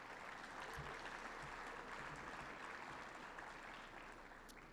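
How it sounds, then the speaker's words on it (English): An audience at Tucson's 2021 State of the City event applauds local bakeries and chefs, a steady, moderately faint wash of clapping held for several seconds without speech. "A big round of applause for all of them"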